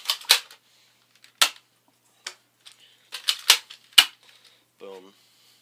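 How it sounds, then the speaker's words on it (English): A toy Nerf gun fires in a video game: a run of sharp, dry clicking pops at irregular intervals, close and crisp, with a voice speaking briefly near the end. "Nerf gun."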